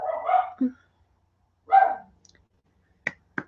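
Dogs on a homestead bark in two short, nearby bursts, each a couple of sharp barks, separated by quiet and followed by a couple of faint clicks.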